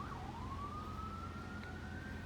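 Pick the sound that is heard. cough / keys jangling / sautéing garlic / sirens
sirens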